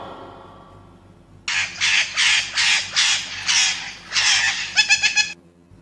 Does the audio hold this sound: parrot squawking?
yes